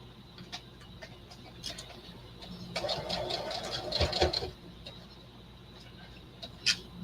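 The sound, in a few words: sewing machine back stitching a tote bag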